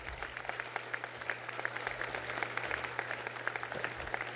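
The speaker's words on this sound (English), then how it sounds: "give organized labor a round of applause for all the work that they do." An audience gives organized labor and the building trades a round of applause at an SIUE Rebuild event; steady, moderately distant clapping from a room, with a low hum underneath, sustained throughout.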